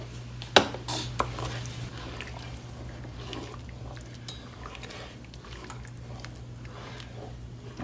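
A spoon clanks twice against a pot of Haitian-style okra rice, then gives way to faint, soft scraping as the rice is stirred, over a low steady electrical hum.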